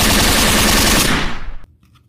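A Tommy gun fires one rapid, loud, close burst of shots lasting about a second and a half, then cuts off abruptly into near silence.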